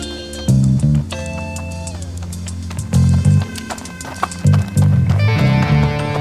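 Hooves clatter in rapid irregular bursts as horses gallop past, the loud near thumps coming in clusters over a steady background hum and layered with dramatic music tones.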